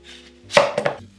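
A pricey Korean chef knife by Master Shin In-Young slicing through juicy food on a board, a few crisp close cuts and taps in quick succession within a second, no talking.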